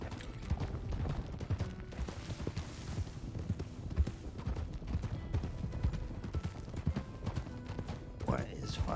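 Horse hooves clop steadily in the video game RedM, a continuous rhythmic trot over ambient background noise.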